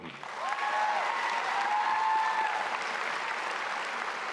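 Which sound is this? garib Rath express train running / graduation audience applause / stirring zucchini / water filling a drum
graduation audience applause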